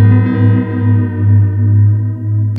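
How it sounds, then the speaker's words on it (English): Modulated echo from a Belle Epoch Deluxe pedal with severe pitch detuning: a sustained guitar note wavering slowly in pitch, loud and close, alone without talk. "Severe pitch detuning and some really cool applications for that."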